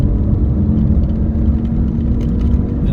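A 2021 Opel Corsa 1.2T Elegance under hard acceleration through the gears, with a steady, loud low engine rumble and whirring drone. No voices are heard over it.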